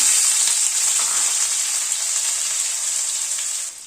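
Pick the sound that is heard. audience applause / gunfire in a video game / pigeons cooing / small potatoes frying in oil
small potatoes frying in oil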